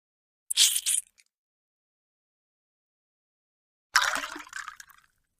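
A brief splash of sodium chloride solution being poured into a test tube, then a pause, followed by a longer pour that tapers into a trickle.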